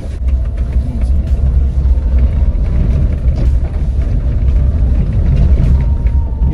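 A Mahindra Thar rolls over a rough, pitted dirt road, its steady low engine and tyre rumble loud and close, broken by small bumps and knocks from the uneven surface, with no talk.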